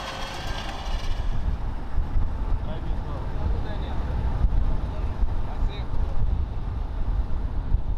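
A vehicle rumbles steadily on the drive back from a hunt with an outfitter, low engine and road noise filling the whole stretch with wind buffeting the microphone, the sound continuous and close.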